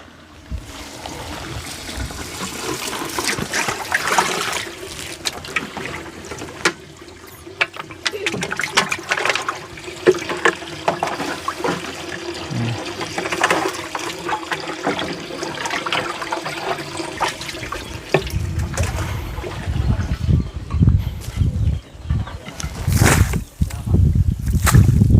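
Water poured out to wet and compact freshly laid ground, a steady splashing and sloshing rush that grows heavier toward the end, with no talking heard.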